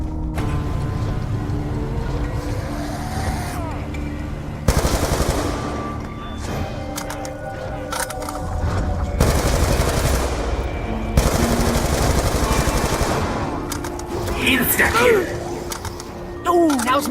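A Galil machine gun fires in Black Ops 2 Zombies, loud automatic bursts and rapid gunfire chatter with weapon mechanism clicks, broken by short gaps and game sounds, while a voice talks over parts of it.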